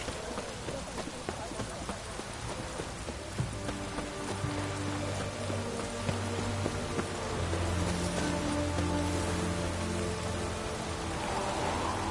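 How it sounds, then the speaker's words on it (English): Steady rain falling in The Witcher 3 video game, a constant patter with horse hooves clopping and faint talk mixed in. "Long as I'm not at sea, let it rain."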